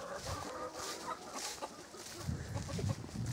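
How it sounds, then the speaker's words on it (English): Free-range Barred Rock chickens cluck around a simple rural homestead, with several birds heard murmuring and clucking at moderate distance and a busier, louder patch of clucking toward the end, with no talk over it. "Chickens all over. They're free range."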